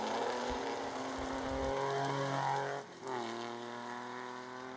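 Rally car blasting through a high-speed stage at the Scottish Borders Hill Rally, engine howling at high revs and close, with a brief dip at a gear change before pulling hard again.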